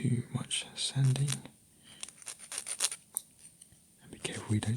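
Gentle sanding of a plastic part from a Gunpla Barbatos model kit, soft rasping rubs in short bursts at close range, with whispered talk between and over the strokes.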